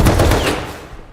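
Gunfire in the video game Rust: a loud, close burst of several rapid shots fired in quick succession, then a fading echoing tail.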